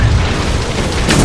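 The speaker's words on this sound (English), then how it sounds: "Throwing fire grenade." A deep, loud boom of a fire grenade going off in a battle royale shooter game, filling the short moment with a dense low rumble.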